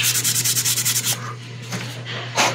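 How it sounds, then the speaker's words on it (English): Hand sanding with fine 400 grit sandpaper on filled putty of a quarter-scale figure: a quick run of rhythmic rubbing strokes, then a few slower, separate swipes, close and alone. "It's like 400 grit sandpaper."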